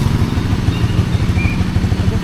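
Motorcycle engine running close by, a steady loud low chugging idle with regular pulsing throbs throughout.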